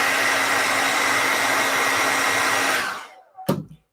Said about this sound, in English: And then you take the hair dryer again and do this.